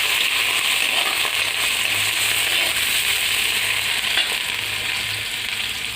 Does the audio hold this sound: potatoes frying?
yes